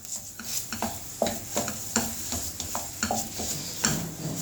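A spoon stirs coconut halwa mixture in a pan, giving a series of regular scraping strokes over a soft sizzle, close and clear with no talking.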